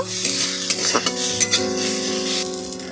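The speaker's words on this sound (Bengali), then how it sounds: "একদম লাল লাল করে ভেজে নেব" Onions fry in a pan until reddish-brown for a hilsa fish dish, a loud, steady sizzle with a few spatula scrapes and stirs, close up.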